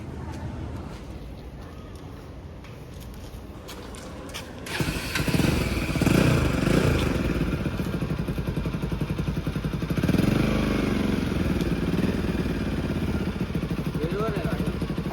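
Motorcycle held in first gear on a road near Satara, the engine thudding loudly and steadily after a quieter opening, with a rider and passenger talking over the rumble.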